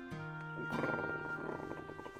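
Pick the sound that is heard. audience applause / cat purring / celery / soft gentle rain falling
cat purring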